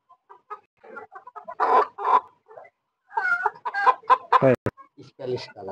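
A Wyandotte chicken clucks in short, irregular bursts, close and fairly loud, with quiet gaps between the calls.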